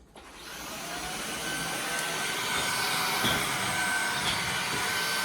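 A bagless vacuum cleaner set to hard floor mode runs steadily with a loud, continuous broadband whoosh and high whine. It sounds close and alone, holding even throughout after a brief start.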